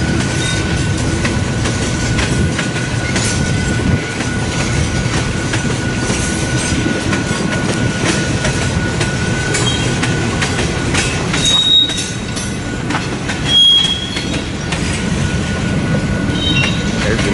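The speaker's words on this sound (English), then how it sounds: "Again, this is a westbound manifest that stopped at a crew change here" A westbound freight manifest train at a crew change in Fremont, Nebraska, rolls past with a loud, continuous rumble, rattling cars and a steady wheel whine, and short squeals near the end.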